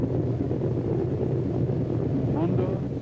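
Powerful engines and aircraft traffic at a WWII Seabee-built allied air base on Munda in the Solomon Islands, South Pacific, a steady loud low rumble with wind-like noise throughout, no speech heard.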